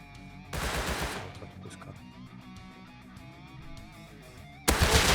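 Two loud bursts of Kalashnikov automatic rifle fire in a video game, one at the start and one at the end, with quieter game ambience and music between them.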